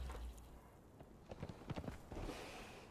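Horse hooves walking in the video game Conan Exiles, a cluster of soft clip-clop steps in the middle of the stretch over a steady low rumble of background game ambience.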